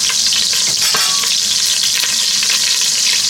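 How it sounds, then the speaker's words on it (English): Butter sizzles loudly in a pan as a roux is started for seafood gumbo, a dense, constant frying hiss close up with faint utensil taps. "Now we're gonna start the roux. Use half a stick of this butter."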